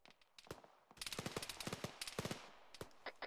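Rapid bursts of rifle fire in the ArmA 3 military shooter, dense overlapping shots cracking in quick irregular volleys, fairly close and sharp, with a brief lull before a sustained fusillade.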